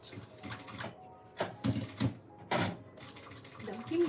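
A sewing machine stitches a handbag closed in short, rapid mechanical bursts with pauses between runs, heard up close.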